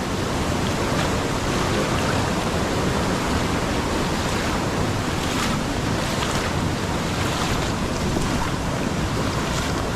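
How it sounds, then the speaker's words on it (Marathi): The flooded Kajali river rushes past in a village in Konkan, a loud, dense and unbroken roar of water with wind buffeting the microphone, and no voices. "हे बघा पाणी वाढत चाललंय."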